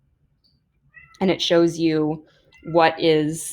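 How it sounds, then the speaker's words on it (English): A pet cat sings out in clear, drawn-out meows, two separate calls, close to the microphone and fairly loud, with a person talking at the same time. "You can hear my cat singing in the background."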